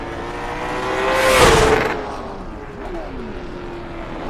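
A race car engine on the Nashville Fairgrounds mini oval in iRacing swells past, peaks and fades away under a commentator's talk, with a droning engine tone holding steady throughout.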